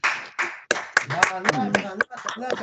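A church congregation claps in praise during a Sunday service, sharp irregular claps close by mixed with spoken voices throughout.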